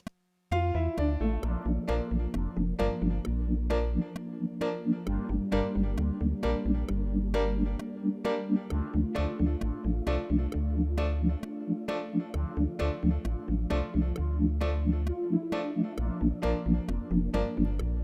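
Reggae one drop groove programmed in MIDI with piano, wah clavinet, picked bass, bubble organ and a sustained pad: steady offbeat chord stabs over a deep bassline, looping evenly and loud throughout with no voices.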